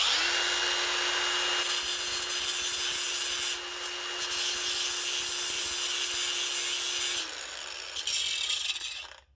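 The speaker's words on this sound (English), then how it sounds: "I'm just going to take my grinder. It's got a cutoff wheel on there now" Angle grinder fitted with a cutoff wheel grinding an old vehicle marker light, a loud continuous whine with a steady tone that drops in pitch as the wheel spins down near the end, with no talking.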